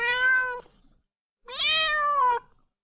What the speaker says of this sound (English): Oh, that's an angry kitty.